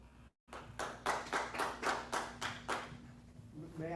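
Audience applause at a congressional district forum on water rights: a burst of clapping, around eight rhythmic swells of many hands, fading at the end under a low steady hum.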